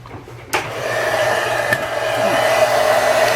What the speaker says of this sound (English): and then you're going to take the heat tool.